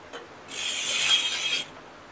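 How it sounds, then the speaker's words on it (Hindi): A carbon fiber bicycle wheel spins freely on its bearings, giving a smooth, even hiss-like whir that swells for about a second, holds steady, then fades, heard close up and alone. "ये मैं व्हील घुमाया ना, ये घूमता रहे, ये रुकेगा नहीं।"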